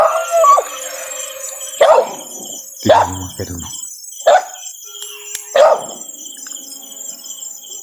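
A dog barks in a series of five sharp, fairly close barks spaced about a second apart, with a person speaking briefly at the start in an outdoor setting.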